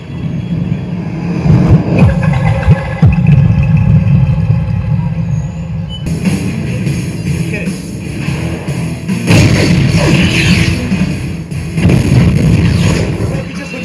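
A Dolby Atmos effects demo plays through a Zebronics Zeb-Juke Bar 3850 PRO soundbar: loud, dense cinematic rumbles and booming impacts with rushing, hissing surges that shift abruptly several times, unbroken throughout.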